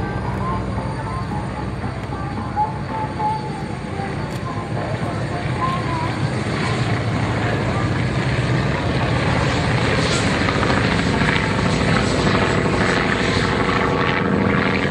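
WWII warbirds, an FW 190 and an ME 262 jet, fly over the Hamilton airshow with a broad, sustained engine roar that swells slightly, while a commentator talks over it.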